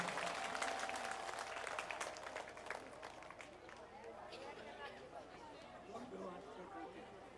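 Audience applause at a Shiv Katha religious gathering, a dense burst of clapping that starts loud, then thins into scattered claps and crowd chatter over several seconds.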